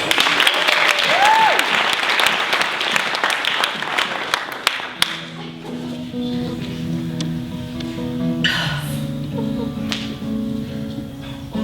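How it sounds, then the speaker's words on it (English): A burst of audience applause and clapping fills the first few seconds, then fades into quieter sounds with a soft tonal background. "a warm round of applause"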